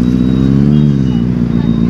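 A Benelli motorcycle engine gives a loud, close, steady low throb with harmonic rumble that holds through the short stretch.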